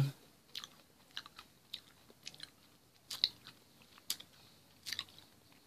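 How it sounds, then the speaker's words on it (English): Close-up bites and chewing of a crisp milk chocolate toffee bar, a series of sharp crunchy snaps spread irregularly through a quiet background, with no talking. "It's very crisp like toffee. And it gets kind of chewy and crumbly in your mouth."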